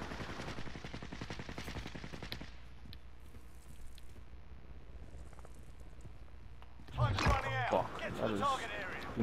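Gunfire in a Call of Duty Warzone squad match: rapid bursts of automatic shots up front, then quieter distant fire and a loud burst of shots near the end, with players talking throughout.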